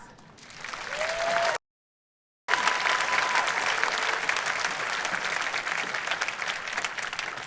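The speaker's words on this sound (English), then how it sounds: "let us give them a round of applause" A commencement crowd claps steadily in broad, dense applause that breaks off for a moment of silence, then resumes and keeps going at full strength.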